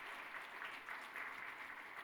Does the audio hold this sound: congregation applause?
yes